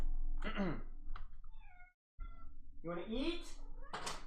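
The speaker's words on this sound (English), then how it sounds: "I'm gonna feed my cat as well." A house cat meows loudly and close, with several drawn-out, rising calls around a voice asking about food, the meows broken by a brief pause.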